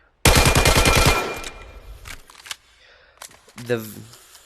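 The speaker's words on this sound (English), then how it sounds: "The Vityaz is by far the best SMG. It's got a mid fire rate." A rapid burst of Vityaz SMG fire in the VR shooter Vail VR, loud and close, followed by softer clicks and handling noises, with someone talking over the later part.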